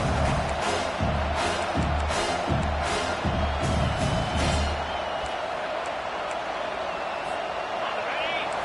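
Home crowd at an American football game roars during a third-down defensive stand, a broad continuous wash of cheering that swells for several seconds before easing, with a commentator talking over it.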